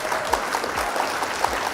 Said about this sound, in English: a round of applause for our opponent here